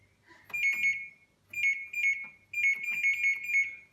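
A Haier appliance emits a series of electronic beeps and tones on power-up, three separate bursts of bright pitched chirps with brief pauses between them, close and fairly loud.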